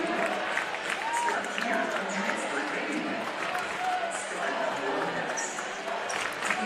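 Fluorescent-clad Des Moines Christian student section at a 2022 Iowa girls' state 3A volleyball semifinal, tied 23-all in the third set, filling a large arena with steady crowd roar, applause and cheering, with a commentator talking over it.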